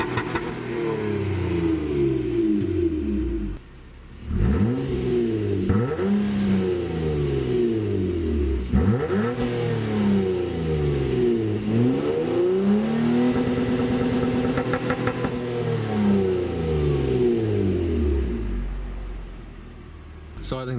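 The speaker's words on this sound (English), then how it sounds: "I still have the Borla exhaust with the two-step." A 2017 Honda Accord Coupe V6 with a Borla exhaust revs repeatedly, its pitch rising and falling in loud, throaty sweeps, with a brief drop near the start and steady engine rumble between revs.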